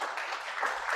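A church congregation applauds, a brief, dense wash of clapping that holds steady at a fairly loud level with no speech over it.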